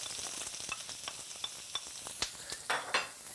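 Onions fry in hot sesame oil with a soft, steady sizzle, while a utensil taps and scrapes the pan in scattered clicks that grow sharper toward the end; the sound is quiet and close, and no one speaks.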